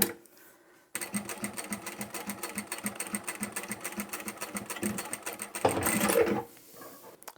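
Domestic sewing machine top stitching a zipper between lining and main fabric for a bag, a steady rapid mechanical whir of needle strokes running for several seconds, briefly louder and faster near the end, then stopping.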